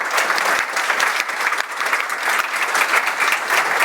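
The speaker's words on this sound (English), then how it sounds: "Everybody give them a round of applause." Audience applauding after a panel discussion, steady dense clapping from a crowd, sustained and fairly loud throughout.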